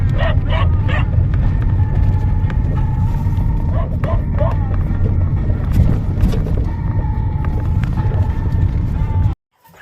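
Dogs bark in short bursts over a steady low rumble of outdoor noise, fairly close, with a few clopping sounds, then the sound cuts off abruptly at the end.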